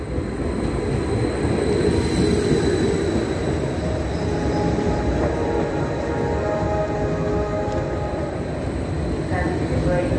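A GYSEV Flirt3 electric multiple unit pulls into Győr station in Hungary, a loud continuous rumble of wheels and motors near the platform, with faint squeals partway through.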